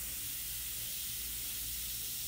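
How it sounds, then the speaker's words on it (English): India ink spraying lightly onto Bristol board while painting, a steady soft airy hiss holding evenly throughout with no voices. "Light spraying, I should say."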